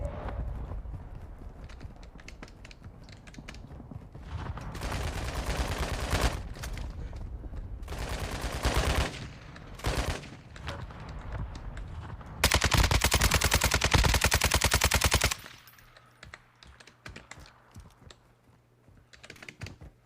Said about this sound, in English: Sniper shooting at me.